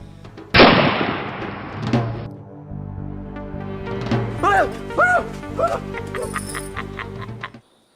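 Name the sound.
gunshot nearby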